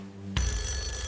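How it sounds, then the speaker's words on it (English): An electronic telephone bell on a studio game show starts abruptly and rings loudly and continuously over a low hum. "This is going to be one of the more important phone calls of your life, Jeff."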